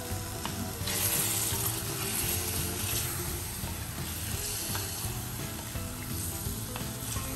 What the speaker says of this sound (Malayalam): പാർട്സ് ഇട്ടതിന് ശേഷം നമുക്കിതൊന്ന് ചൂടാക്കി എടുക്കാം.